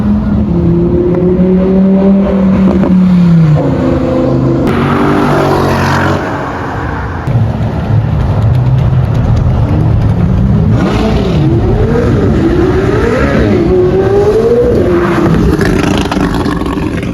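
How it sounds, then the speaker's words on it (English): A supercar launches and accelerates hard at a sunset car meet outside a Lamborghini dealership in Orlando, its engine loud and close, rising through revs in sweeping pitch climbs with a continuous roar and no talk. "Oh, he's launching it!"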